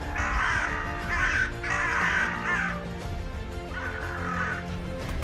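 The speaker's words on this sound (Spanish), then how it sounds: "Miren los cuervos, escuchen." Crows caw in Norway in three harsh, raspy bursts of repeated calls, loud and fairly close, separated by short pauses against a quiet outdoor background.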